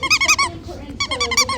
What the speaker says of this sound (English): This is the sound of a puppy class.